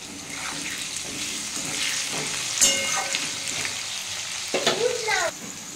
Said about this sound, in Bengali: ওই তেলের মধ্যে আমি আলুগুলো দিয়ে দিয়েছি, আলুগুলো আমি একটু লাল লাল করে ভেজে নেব।